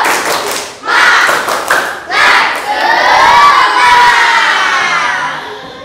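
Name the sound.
schoolchildren doing the 'tepuk semangat' spirit clap and cheer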